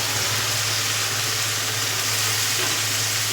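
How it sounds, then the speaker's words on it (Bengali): Ground spices with salt, chilli powder, ginger paste and cumin fry steadily in a pan for a pointed gourd dish, a continuous close sizzle with faint stirring scrapes and no talk. "এরকম আমি ভালো করে কষিয়ে নেবো মশলাগুলো দিয়ে।"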